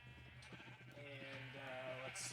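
Minecraft sheep bleat softly in a quiet, wavering tone, a couple of overlapping calls heard faintly in the game.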